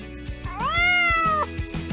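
A single cat gives one drawn-out, rising then falling meow close by, heard over a soft rhythmic background beat.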